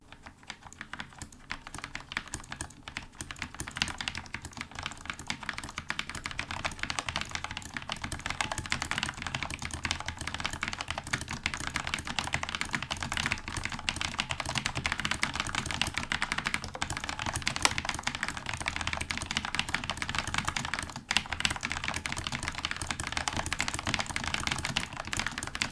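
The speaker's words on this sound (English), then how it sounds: "It's like typing on Cherry MX Silent." Rapid, quiet clicking of a Corsair K70 RGB MK.2 Low Profile mechanical keyboard being typed on continuously, a dense, soft tapping held at low level throughout.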